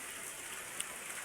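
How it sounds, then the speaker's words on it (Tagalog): Steady hiss of rain falling in a forest, an even broadband wash with a faint drip or tap standing out midway, no voices present. "Ulan na naman."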